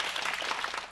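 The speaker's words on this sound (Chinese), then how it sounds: "掌声鼓励一下" A television variety show studio audience claps in a short burst of dense, fairly loud applause, filling the moment without any clear talk.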